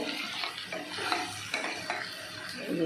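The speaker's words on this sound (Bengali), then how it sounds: "চলো দেখো কি মানে চিকেনটা কষা হয়ে যাচ্ছে" Chicken sizzles and is stirred in a frying pan for a home-made chicken do piaza, with steady close frying hiss, scraping spoon strokes and occasional clinks of utensil on the pan, no talking.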